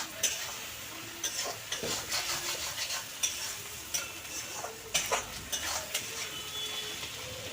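Boiled potatoes are sautéed in fish oil as a spatula scrapes and taps against the pan in repeated strokes over a soft, faint sizzle, with no one talking.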